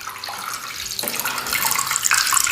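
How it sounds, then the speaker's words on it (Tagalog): Water splashes and sizzles as it is poured into a hot pan of garlic oil and tocino, a steady rushing pour with a brief surge partway through, close and fairly loud. "At pinapakuluan ko din itong tocino. Kaya naglalagay ako ng konting tubig."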